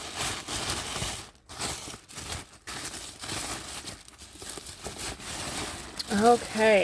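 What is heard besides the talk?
unwrapping a wrapped package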